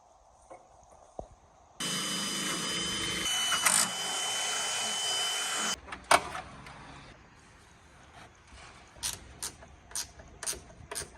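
A loud, steady power drill whirs for a few seconds drilling holes in car parts, followed by scattered clanks and taps of tools on metal.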